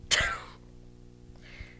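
A storytelling narrator imitates a sneeze with a short, sharp, breathy burst close to the microphone, followed by quiet and a faint trailing breath.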